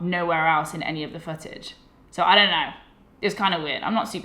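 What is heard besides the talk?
No everyday noise stands out behind the speech.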